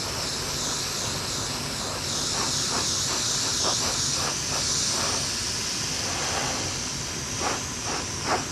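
Airbrush spraying paint onto a 1972 Dodge Challenger during touch-up, a steady close hiss of atomized spray running throughout with faint rhythmic pulses in the middle and near the end.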